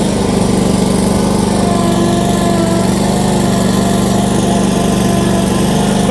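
A Kioti stand-on lawn mower engine runs while driving around a lot, giving a loud, steady, high-pitched buzzing drone with constant vibration, close up and uninterrupted.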